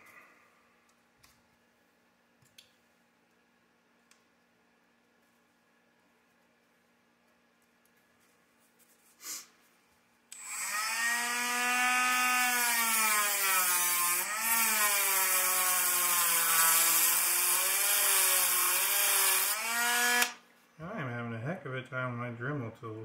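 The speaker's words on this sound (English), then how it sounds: "My Dremel tools." Faint scattered ticks give way to a Dremel rotary tool cutting a part during a rear clip build on an SBX-1 RC car: a loud, shrill whine for about ten seconds with wavering pitch, then a shorter, lower-pitched burst.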